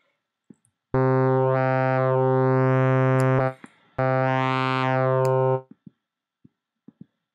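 Two long, loud buzzy notes from the Massive X synthesizer in bend mode with phase distortion, a bright harmonic tone that bends and warps as it plays, separated by a brief gap, with faint clicks around them.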